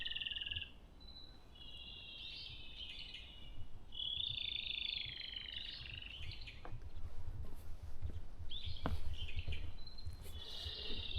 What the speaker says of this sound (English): This is the first time I've heard these birds.